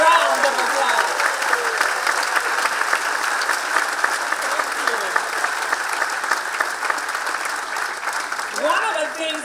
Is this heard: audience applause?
yes